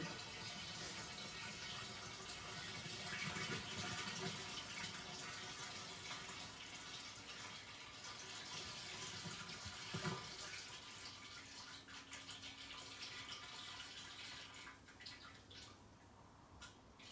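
Bleach poured slowly into water to cure reef rock, a steady soft trickle and splash running continuously at moderate level with no talk over it.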